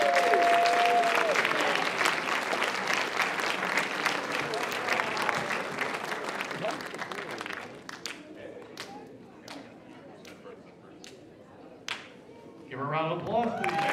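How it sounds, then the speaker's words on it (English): Loud crowd applause and cheering at a horror convention costume contest, dense and sustained for several seconds, then thinning into scattered claps with voices talking before a final burst of clapping. "Give a round of applause, please."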